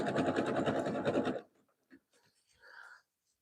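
A sewing machine runs at speed while stitching a jelly roll rug, a steady dense whir for about a second and a half before stopping abruptly, followed by faint handling sounds and a brief soft rustle.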